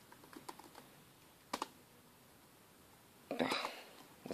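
Someone types a password on a computer keyboard, with a few light scattered key taps, a short pause, then a quick close burst of clicks. A faint breathy voice can be heard near the taps.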